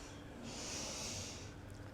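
A sharp, breathy exhale during a triceps push on a Pilates reformer: one soft hissing breath out lasting about a second, close and quiet with no talk.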